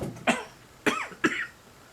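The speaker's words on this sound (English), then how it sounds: "starting to cough again" Three separate coughs from a man with a sore throat and a lingering illness. They come close to the microphone at a fairly even spacing over two seconds, with quiet room pauses between them.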